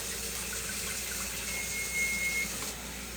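Water pouring steadily into a cooking pot of chicken wings for braising, a continuous broad rushing splash that holds at an even level for about three seconds, with no talking.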